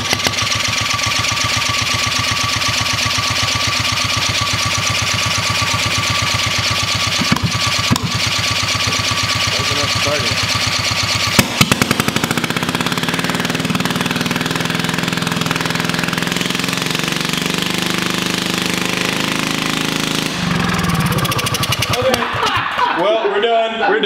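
A Predator 212 small engine forced to run backwards, idling and knocking roughly with a harsh mechanical hammer, a sharp bang midway, then a rougher laboring run before it cuts off near the end.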